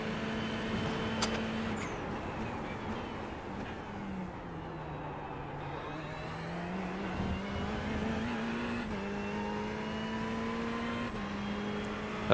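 A Ferrari 488 GT3 EVO race car engine at Le Mans in the iRacing simulator, a steady high-pitched drone that dips slightly and climbs back through a corner exit, continuous and close.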